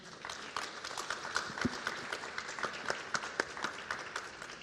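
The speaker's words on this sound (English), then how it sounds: "Let's give a round of big applause to our speakers" Audience applause for panel speakers at a conference session, moderately quiet, with distinct individual claps standing out over a thin, steady patter.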